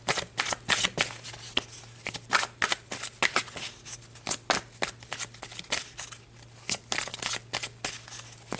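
A deck of tarot angel cards is shuffled by hand, giving rapid, crisp riffling bursts and slaps in an irregular rhythm, close and clear with no talking.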